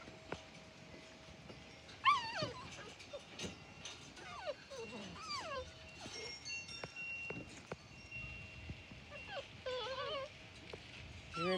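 Three young puppies whimper and yip in a quiet room, their thin, high cries coming in scattered bursts, with a little soft background noise in between.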